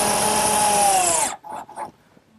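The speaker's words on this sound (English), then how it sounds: "fasten it with some 1 1/4-inch screws" A power drill drives 1 1/4-inch screws into the base of a wooden cricket table. A loud, steady whirring runs for over a second and then cuts off, followed by a few brief, quieter knocks.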